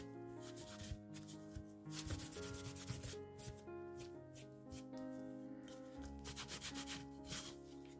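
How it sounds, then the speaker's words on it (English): A soft cloth buffs dark wax over a painted wooden horn book, making soft, close rubbing and scuffing strokes in an uneven rhythm at low level, with no voices. "And then I'm going to use a soft cloth to rub it back,"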